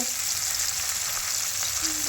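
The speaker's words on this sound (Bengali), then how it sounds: "কাঠের হাতা দিয়ে একটু নাড়িয়ে নাড়িয়ে সরিয়ে সরিয়ে দিচ্ছি যাতে একে অপরের সঙ্গে জড়িয়ে না যায়" Small fish frying in hot oil in a rustic village kitchen, a steady close sizzle with faint scraping as a wooden spatula stirs and separates them, no talk.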